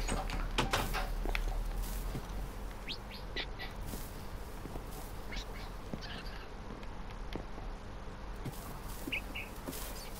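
Parrot-like creeper mobs from Minecraft chirp and squawk in short, scattered bursts over steady background noise, with occasional clicks and knocks.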